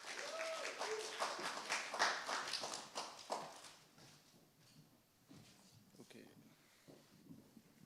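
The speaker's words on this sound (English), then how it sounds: "So round of applause for them." Applause from an audience at an Amazon Bright Sparks showcase with Prime Video, welcoming presenters; fairly faint clapping that swells early and then thins out, with voices underneath.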